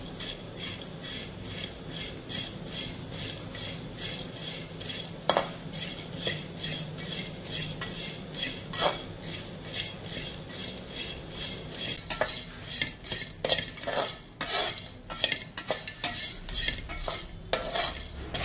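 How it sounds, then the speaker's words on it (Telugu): Prawns stirred over low heat in a pan for Andhra-style tamarind-leaf dried prawn curry, with repeated scraping and metallic clinks of a utensil against the pan, close and steady, a faint sizzle underneath and almost no talk. "ఈ రొయ్యల్ని సిమ్లో పెట్టుకొని 2 to 3 minutes మనం కలుపుతూ ఉండాలి"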